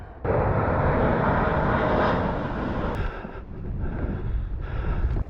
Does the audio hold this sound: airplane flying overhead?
yes